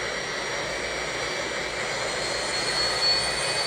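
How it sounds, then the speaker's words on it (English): Steady, sustained roar of jet fighter engines, a broad continuous whoosh with a faint high whine that holds at a constant level throughout, fairly distant. "Like jet fighters."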